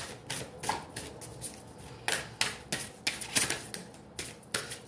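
Tarot cards being shuffled and pulled by hand, a series of quick crisp riffling and flicking bursts with short pauses between, close and fairly quiet with no talking.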